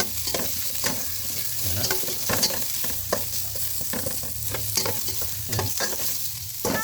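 Onions sauté in a small amount of oil for a mussel dish, a close sizzle and crackle broken by stirring and scraping knocks, with someone speaking briefly over it.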